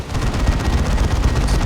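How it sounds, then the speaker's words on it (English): Rapid, continuous heavy gunfire from a Mega Bolter Cannon in the strategy game Warhammer 40,000: Dawn of War 2, a dense booming barrage that runs loud and unbroken throughout. "Battering her with that Mega Bolter Cannon"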